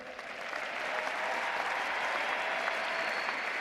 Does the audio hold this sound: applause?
yes